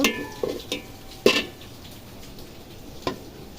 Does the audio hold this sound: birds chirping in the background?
no